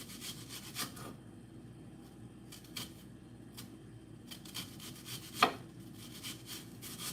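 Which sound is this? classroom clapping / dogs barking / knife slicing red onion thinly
knife slicing red onion thinly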